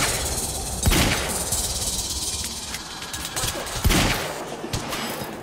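Gunfire and hissing bursts in the video game Quantum Break, a dense continuous wash of shots with two sharper blasts standing out, loud and close, with no talking.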